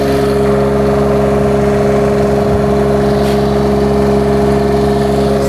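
A 7,500 watt generator runs on a 2003 Monaco Windsor diesel pusher motorhome, giving a loud, close, steady engine hum with a constant tone throughout.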